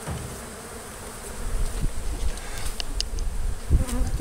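Honey bees buzz steadily and densely close by while a hive is removed from beneath an elevated house in Mississippi, a constant insect drone with small bumps and knocks from the work.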